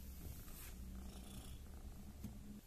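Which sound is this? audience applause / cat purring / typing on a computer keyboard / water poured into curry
cat purring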